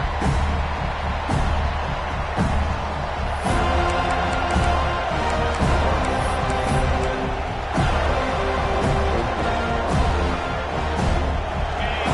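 A home football crowd at a Florida State vs Alabama game keeps up a loud, sustained roar of cheering, with thumping bursts and noise rising and falling across the stadium.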